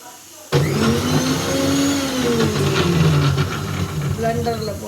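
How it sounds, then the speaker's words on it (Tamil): A blender runs steadily with oranges inside, its whirring motor starting abruptly after a brief pause and holding a loud, continuous drone with shifting pitch as the fruit is blended into juice. "பிளெண்டரில் போட்டு அடிச்சுட்டு"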